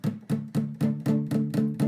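Palm-muted guitar power chords chug in eight evenly spaced, punchy strikes, each a short damped burst that fades before the next, close and loud with no voices.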